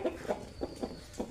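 A chicken with a respiratory condition makes a rasping, snoring breath sound, four or five faint rhythmic pulses close by.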